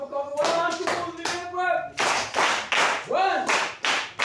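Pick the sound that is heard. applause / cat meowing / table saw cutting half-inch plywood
applause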